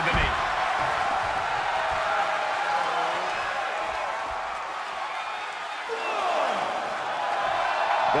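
Roaring arena crowd at a WWE 2K23 wrestling match, a New Japan World Tag League tag-team bout, cheering loudly and steadily throughout under a commentator's voice.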